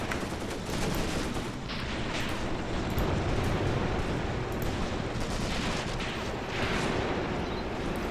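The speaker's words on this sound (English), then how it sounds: "Unbelievable amounts of gunfire here." Dense, continuous battlefield din from the WW2 tactical game Graviteam Tactics: overlapping rifle and machine-gun fire with heavy artillery rumble, loud and unbroken throughout.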